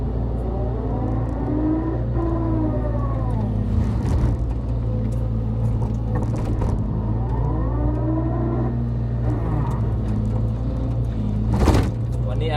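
A hydraulic excavator stripping topsoil from a Thai rice paddy, scooping soil into a dump truck, its diesel engine droning steadily close by and rising in pitch with each swing and lift, with someone speaking over it at times.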